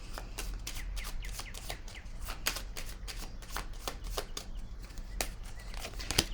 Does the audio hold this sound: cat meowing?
no